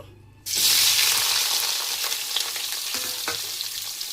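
Chopped onions hit hot oil in a pan with a sudden loud burst of sizzling that settles into a steady, dense crackle, close up and continuous, with a few faint stirring knocks.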